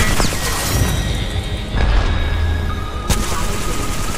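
Grenade blast in the Apex Legends video game: a heavy low boom around mid-clip followed by a sharp crash, set amid continuous game noise and tonal effects.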